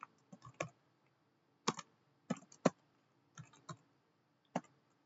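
Bursts of keystrokes on a computer keyboard while typing a Linux ping localhost command, close and fairly quiet, in short irregular clusters separated by pauses.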